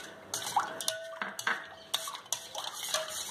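Ice added to lemonade with black salt and stirred, giving close clinking and rattling of ice and utensil against a vessel in quick uneven bursts, with a faint liquid slosh and no talk.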